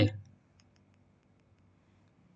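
A computer mouse gives one sharp click at the start, close and crisp, followed by a few very faint ticks over near-silence.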